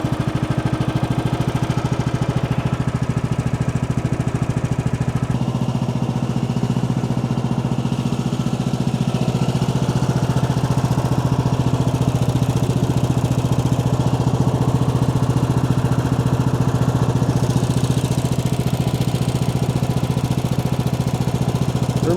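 The engine of a Woodland Mills sawmill runs smoothly after being oiled with silicone lubricant, making a loud, steady, continuous engine hum with an even rumble throughout and no talking.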